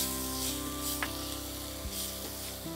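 Spinach filling for palong puri fries in a pan, giving a faint, steady sizzle with a low background hum and no talking.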